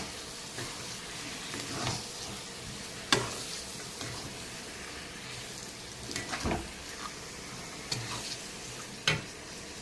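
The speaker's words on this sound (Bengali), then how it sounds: "এখন আমার এই মশলাটা ভাজা হয়ে গেছে। আমি এখন দিয়ে দেবো মটনগুলো" Marinated mutton goes into fried spices in a pan over a low flame, giving a soft, steady sizzle with occasional sharp clicks and scrapes of stirring, fairly quiet and close.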